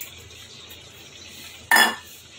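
Fried shrimp tipped into a pan of cooking jhinge shukto with bay leaves, a single sharp clatter and hiss as it lands, loud and close after a quiet stretch, no talking.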